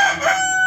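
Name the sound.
rooster crowing at a poultry market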